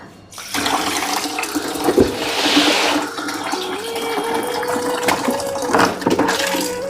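Water sloshes and gushes steadily while clothes are washed by hand at home, a close, continuous rush of splashing and pouring with occasional sharper knocks.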